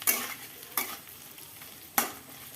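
Ingredients for a fish curry are frying and being stirred in a pan: three sharp scraping strokes spaced about a second apart rise over a faint, steady sizzle, with no talking.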